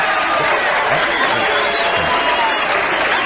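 A bowling crowd at a 1997 Mobil 1 Classic match cheers a strike, a loud, continuous roar of voices and applause filling the hall, with a commentator talking over it.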